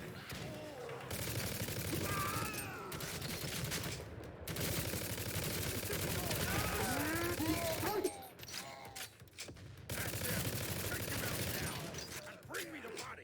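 Shotgun fire in the video game Necromunda: Hired Gun, dense booming gunfire and mechanical clatter in long sustained bursts with brief lulls, amid busy game effects and some voices.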